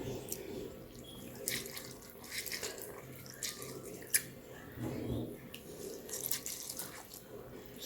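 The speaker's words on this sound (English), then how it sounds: "as you're washing it, the rice is going to break apart and become like real gritty" Rice being rinsed by hand in a bowl of water to make rice water, giving a steady close wash of swishing and trickling with small splashes and one brief sharp clink, a faint tap-like flow underneath, no talking.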